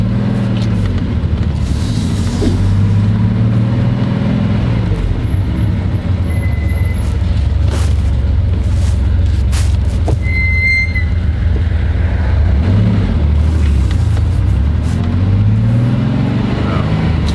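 A 1987 Porsche 911 Carrera Cabriolet with a Turbo-look body pulls away and drives on, its engine a steady close rumble throughout with faint road noise.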